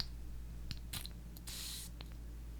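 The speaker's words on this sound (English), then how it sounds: "Let's just give it a little spray." A cologne atomizer bottle releases a short, soft spray hiss close by in a quiet room, preceded by small clicks of handling the bottle.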